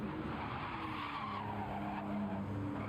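A BMW M2 race car slides loose with a short tire squeal and skid over engine drone in a racing video game, fairly faint and steady throughout.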